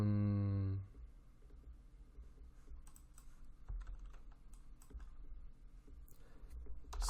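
Fingers type on a computer keyboard, a run of quick, light key clicks at an uneven pace, heard close and fairly quiet after a brief tonal chime at the start, with no talking.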